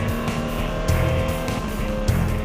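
Race cars accelerating back to green-flag racing at a 24-hour endurance race after a long safety car period, a loud, steady engine roar with tire squeal and the surge of cars passing close by.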